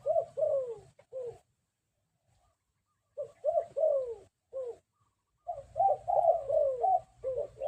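Spotted dove cooing in several phrased bursts, clear and fairly close, with short pauses between calls and a low rumble of background noise beneath.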